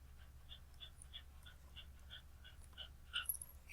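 A dog pants softly in rapid, regular short breaths, quiet and close, with a few faint whimpery catches toward the end and no talking.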